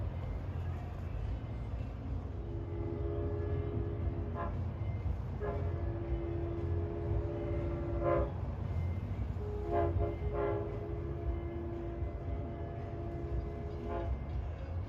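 Passing train 6040 pulling an eight-car consist sounds its horn in several sustained blasts over a steady low rumble of rolling wheels and cars.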